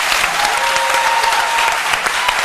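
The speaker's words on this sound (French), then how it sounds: "On l'applaudit très fort" Loud, sustained applause from a television studio audience on a midday talk show, thick and continuous with no break, filling the short stretch on its own.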